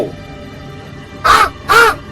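A cartoon crow caws twice in quick succession, loud and close, two harsh cries about half a second apart after a brief quiet lead-in, with no talking.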